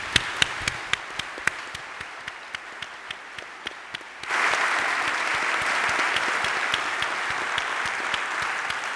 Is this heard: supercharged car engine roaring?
no